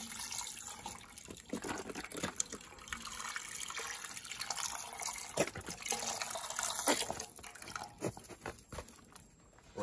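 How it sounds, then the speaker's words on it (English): Beef broth pours into a pot at a winter camp inside a heated tent, a steady liquid splash running close and moderately loud for about ten seconds with no voices. "Next will be some beef broth."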